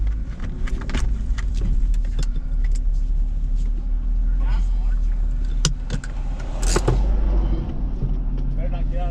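A car rolls slowly to a stop while parking, its engine idling low and steady under interior clicks and knocks, with a person talking nearby.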